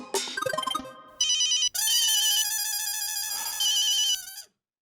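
A phone rings with a bright electronic ringtone melody, a short burst, a brief pause, then a longer sustained tonal pattern that cuts off abruptly; no talking.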